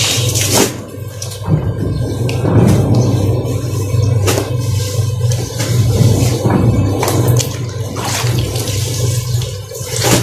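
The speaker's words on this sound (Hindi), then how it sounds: "कपड़ों को पानी से वॉश।" Clothes being washed by hand in water in a village home, with continuous splashing and sloshing broken by sharper slaps and swishes, loud and close throughout.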